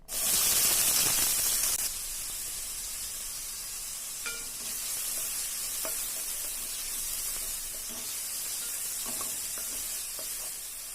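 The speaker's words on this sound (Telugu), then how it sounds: "నెక్స్ట్ స్టవ్ వెలిగించుకొని ప్యాన్ పెట్టుకొని అందులో ఆయిల్ వేసి 2-3 ఉల్లిపాయలు కట్ చేసి వేసుకోవాలి." Onions sizzling as they fry in oil in a pan on a stove, a loud initial hiss that settles into steady crackling with small pops, no talking.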